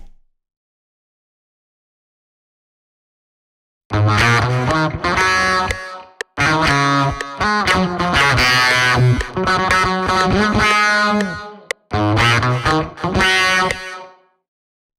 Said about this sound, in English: Next I'm using the J37 from Waves for some tape saturation and slap delay.